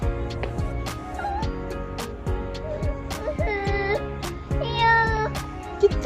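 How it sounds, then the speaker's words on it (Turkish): A kitten meows repeatedly in short, high-pitched cries in a garden over a background of music, close and fairly clear. "Yavru kedi."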